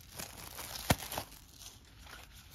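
A sealed wrapper on a pack of RPG action-deck cards is torn open, giving one sharp close rip followed by faint crinkling of the plastic in a quiet room.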